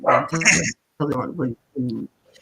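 A pet dog barking indoors, three loud, close barks separated by short silences, with a faint trailing yip at the end.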